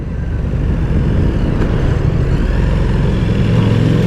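Motorcycle engine running steadily and close by, a loud continuous low drone with some rumbling surges of throttle, no talking over it.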